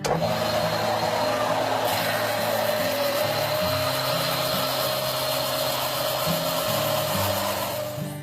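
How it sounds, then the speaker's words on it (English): A steady, loud belt sander whine with grinding wood contact, pitch shifting slightly as a wooden bow handle is pressed against the running belt. "The jig rides along a rub collar just below the sanding belt."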